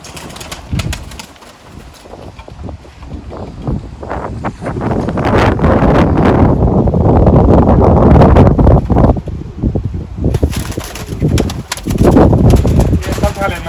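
Pigeons in a backyard loft flutter and flap their wings amid wind noise and rustling, with coos and bird sounds rising and falling close by over steady talk.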